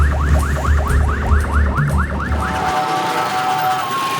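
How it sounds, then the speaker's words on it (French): Ambulance siren sweeping in a rapid repeating wail through dense Port-au-Prince traffic, loud and near over a rumbling engine, then changing to a steadier tone. "Personne ne se pousse, même pour une ambulance."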